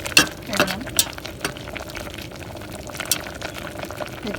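Rice boiling in water in an uncovered pot, a soft bubbling simmer with scattered pops and a few louder splashy bursts early on, moderately close and without talk.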